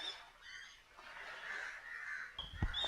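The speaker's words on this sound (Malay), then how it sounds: "Dia bergaduh dengan gagak." Outdoors on an island shore, crows caw while fighting, a stretch of faint, scratchy calling with a louder harsh note and thump near the end, all set against soft background noise.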